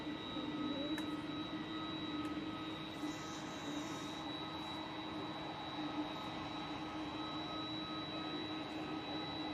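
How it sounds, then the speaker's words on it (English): Ryanair Boeing 737 MAX 8 jet on final approach at Manchester Airport, a soft, constant jet engine whine with steady high tonal hums over a low rumble, distant and uninterrupted with no voices. "Ryanair 737 MAX 8 coming in final after Q8 from Prague."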